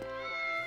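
A cat meows in the video game Triangle Strategy, one short drawn-out call heard alone and fairly close, with a clear tonal quality.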